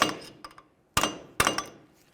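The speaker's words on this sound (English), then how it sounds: "Use a hammer and punch, come right in the center here and break the axle free from the wheel bearing." Metal hammer blows on a punch against an axle in a 2002-2005 Ford Explorer rear knuckle: a lighter tap, then two hard, ringing strikes about half a second apart, each decaying with a metallic clang.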